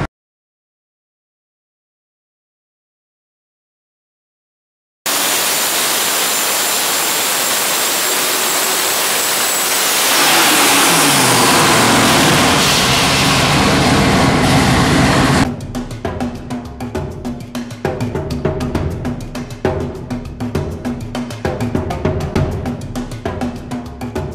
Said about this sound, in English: This is the twin turbo 572 Chrysler Hemi.